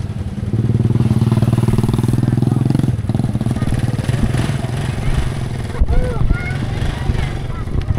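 A motorcycle engine idles loudly close by, its steady rumble shifting as it revs slightly, with people talking nearby.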